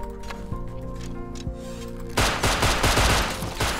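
Gunfire in the Rust survival video game: a few isolated shots, then a sudden loud burst of rapid automatic fire with many sharp cracks in quick succession, close and dominant.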